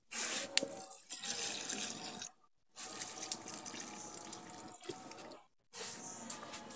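Water pours from a tank supply line onto garden plants in a steady splashing gush, stopping twice briefly before resuming, close and moderately loud with no talking.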